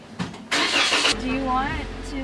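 A car engine runs steadily through loud in-car chatter and laughter, a low hum that persists beneath the voices for the whole moment.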